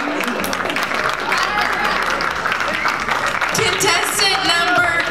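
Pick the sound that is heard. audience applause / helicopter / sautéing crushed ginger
audience applause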